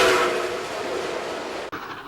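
Steam locomotive whistle of Nickel Plate Road 765, a steady moderately loud whistle tone with rail rumble, cut off abruptly near the end.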